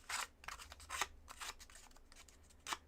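Scissors cut through paper for a Halloween-themed junk journal, producing several crisp snipping strokes in an irregular rhythm, close and fairly loud, with no talking.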